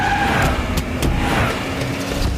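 A car being driven rashly and overtaking on the road, a loud, continuous rushing roar of engine and tyres with a few sharp transient bursts, heard from close by.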